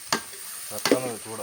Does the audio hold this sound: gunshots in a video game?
no